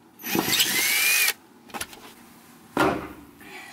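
Power tool driving out long screws inside a truck camper, two loud whirring bursts separated by a pause, with a brief clatter between them.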